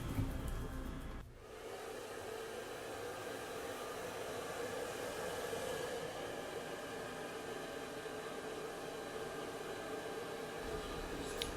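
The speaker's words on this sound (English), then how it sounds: "And I'm just blow drying it for a few seconds on cool." A hair dryer on the cool setting blows over the hairline of a lace frontal wig, a steady broadband whoosh running almost the whole time after a brief quieter start, close and alone with no talking.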